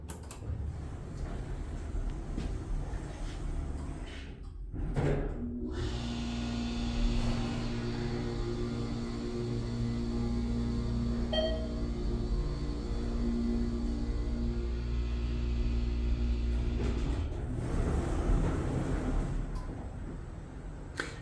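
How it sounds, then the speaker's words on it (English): Motor of a newer TKE hydraulic elevator, a steady humming drone with a tonal whine running for about twelve seconds, bracketed by clunks and rumbles of the doors and car starting and stopping. "It's a newer TKE elevator. With quite the motor."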